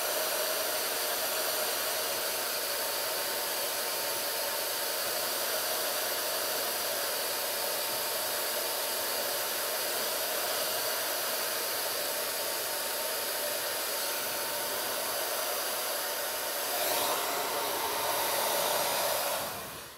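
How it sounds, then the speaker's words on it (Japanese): A hair dryer blows steadily and loudly at close range, drying a small section of hair, with a brief rise in airflow near the end before it cuts off. "ちょっとドライヤーします。"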